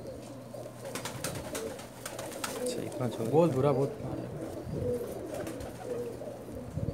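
A pigeon held in the hand coos softly up close in a short throaty burst while a person speaks nearby, with faint background noise.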